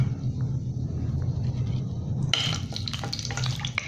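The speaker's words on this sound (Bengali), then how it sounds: "এখন আমি শুরুতে শুকনো মরিচ এবং তেজপাতাটা দিয়ে দিচ্ছি" Dry red chillies and a bay leaf hit hot oil; a soft background hum gives way to a sudden bright sizzle and crackle that carries on close by.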